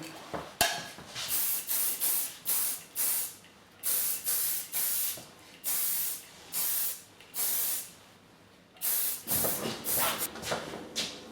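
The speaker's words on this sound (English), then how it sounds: "A little bit of finishing spray." Repeated short bursts of hairspray hissing close by, about a dozen quick sprays with brief pauses between them.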